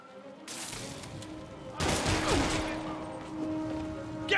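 Henchmen gunfire in Marvel's Spider-Man Remastered: a sudden burst of shots crashes in loud, then a second heavier volley of rapid fire with impacts and crashes, the din rumbling on afterward.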